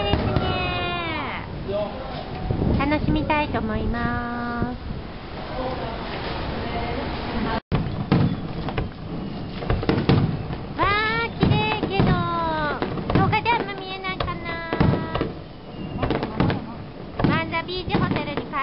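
Fireworks burst over the beach at Manza Beach Hotel in Okinawa, a steady stream of popping and crackling explosions at a moderate distance while someone talks over the display throughout.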